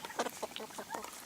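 Baby ducks giving a run of short, clucking quacks, fairly faint and close, several calls in quick succession.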